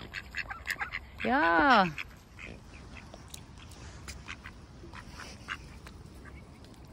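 Ducks being hand-fed give a short, loud nasal quack call, with soft pecking and chewing noises and a person talking quietly nearby outdoors.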